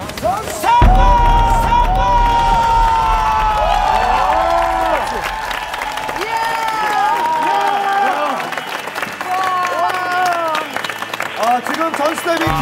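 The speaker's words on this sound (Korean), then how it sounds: "스타분들도 기립박수를 보내고 있습니다." Studio staff and audience give a standing ovation at a televised eating challenge, sustained applause and cheering filling the room while excited voices call out over it.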